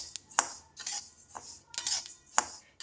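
Pearl millet (bajra) roasts dry in a pan, giving bursts of rattling, scraping stirs and sharp clicks separated by short quiet gaps, close and fairly soft.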